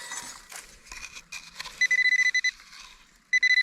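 Metal detector searching an abandoned outback sports ground gives steady, loud tonal beeps in quick pulsed bursts, with softer scratchy handling noise between them.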